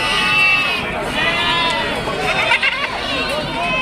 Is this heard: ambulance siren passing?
no